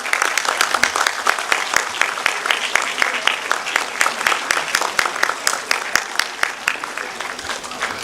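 A large crowd of graduates and families at a university graduation ceremony gives sustained, hearty applause, a thick continuous clatter of many hands lasting throughout.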